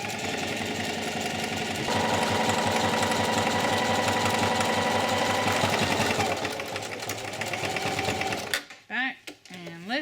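A sewing machine stitches canvas moccasin uppers in a fast, even mechanical run that slows and stops near the end, followed by a few brief spoken sounds.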